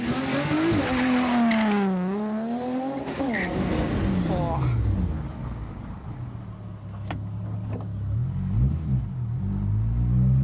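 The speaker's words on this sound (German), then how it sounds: "Erste Probefahrt mit dem neuen Auspuff." A tuned car with a new exhaust on its first test drive revs hard and shifts up repeatedly, the engine note climbing and dropping, then settles into a steady rumble. Someone speaks over it.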